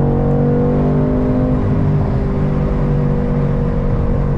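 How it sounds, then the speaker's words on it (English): A Mercedes AMG twin-turbo V8 car accelerates with a loud, steady, deep engine drone that holds strong throughout, heard up close from inside the car with no talking. "We're living life well in this V8. Enjoying that twin turbo."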